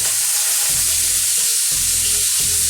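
Steak frying in a hot pan right after being flipped, a loud steady sizzle with a constant crackling hiss throughout, close and without any talking.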